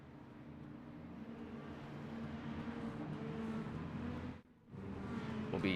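Mini stock race cars and a pace car circling the Charlotte track, a steady droning engine roar that swells gradually, drops briefly, then surges back loud.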